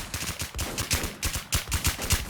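Rapid automatic gunfire in the online shooter AthenaZ, a loud, continuous rattle of closely spaced shots with punchy low thumps, sustained throughout without pause.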